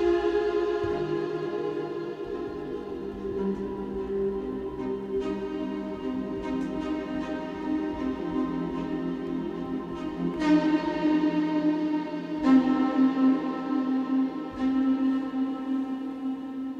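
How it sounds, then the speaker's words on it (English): Sampled instrument played on a ROLI controller through Kontakt, held chords with a few fresh note attacks layered over a sustained bed for about seventeen seconds, close and steady, no voices. "So here is a little demo of what Roli sounds like in Kontakt now."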